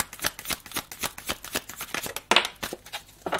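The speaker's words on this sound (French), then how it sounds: "Vas-y, tire-moi 3 cartes d'intro." Tarot cards shuffled by hand ahead of a reading, close and fairly loud, with rapid rhythmic riffling and snapping flicks running continuously and no voices.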